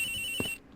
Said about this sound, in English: The ringing's coming from in here, sir!